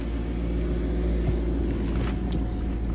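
A 2014 Maserati GranTurismo Sport engine idles continuously at close range, a steady, low rumble, deep and even throughout with no voices.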